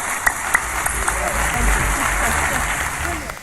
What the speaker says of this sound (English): Please, a warm round of applause for Mr. Jacques Fresco.